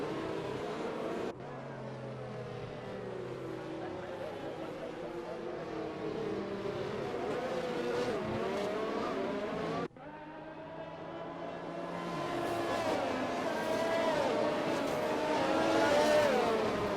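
Racing cars in a video game run under the safety car on the Azerbaijan circuit, engines droning steadily and swelling in pitch as cars overtake, with a brief cut in the sound partway through.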